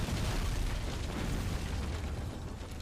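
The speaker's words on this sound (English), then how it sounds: "this ship is firing a mortar" A mortar fired from a ship in the naval video game BattleSail makes one continuous, loud, low boom. The blast rolls on as a dense, rumbling roar for the whole stretch, with no voices over it.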